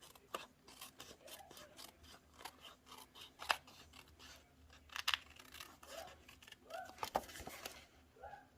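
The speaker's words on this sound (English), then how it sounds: "we'll take our snips and cut around the envelope flap" Snips cutting around the flap of a paper envelope for a handmade card, a series of quiet close crisp snipping and rasping cuts in an irregular rhythm, alone without talk.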